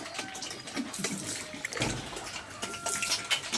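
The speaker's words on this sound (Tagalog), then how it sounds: "Lagyan ng tubig." Water is poured into a container for animals to drink, a steady trickling and splashing stream running close by through the whole stretch.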